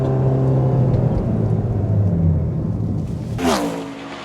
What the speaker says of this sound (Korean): 자, 과속 방지턱도 한번 넣어볼게요.